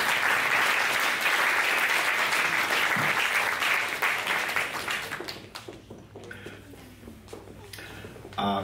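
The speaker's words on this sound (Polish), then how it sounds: "Raz jeszcze wielkie brawa." Loud, dense audience applause at a finals gala held at Google's Warsaw office, thinning into scattered claps and crowd murmur toward the end.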